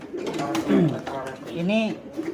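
Pigeons in a loft give two soft, throaty coos in close succession, heard up close, with a voice faintly mixed in.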